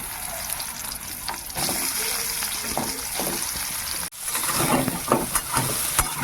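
Soybean chunks going into the oil left from frying potatoes, giving a steady close sizzle with watery bursts and occasional stirring clinks, fairly loud and unbroken by speech.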